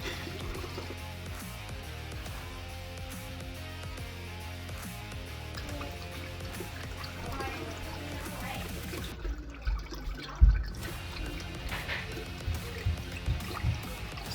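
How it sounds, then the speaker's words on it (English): Horchata made from rice, cinnamon and water soaked overnight is strained, giving a continuous soft trickle and pour of liquid with a few small knocks and splashes toward the end, recorded close in a quiet kitchen. "Straining it one last strain."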